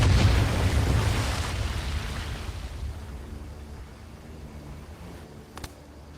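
Medal of Honor: Above and Beyond game audio: a loud, deep explosion bursts at the start, its rumble slowly fading over several seconds into quieter background noise, with a brief sharp pop near the end.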